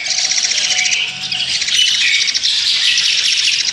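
Black-collared starlings calling loudly and continuously up close, bright rapid chattering and chirping phrases that overlap without pause.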